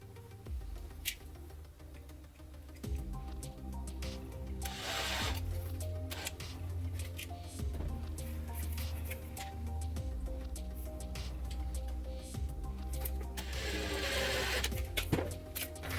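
A hand drill slowly bores holes into the face plate of a Tusken Raider mask, whirring in short bursts with pauses between them, close up and fairly quiet.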